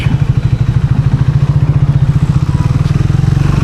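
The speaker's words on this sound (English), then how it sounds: "let me rev the hell out of the bike and see how the bike feels at above 100 kmph" A Triumph Speed T4 motorcycle is revved hard at speed above 100 km/h, a loud, close, rhythmic pulsing engine roar that quickens and climbs steadily throughout.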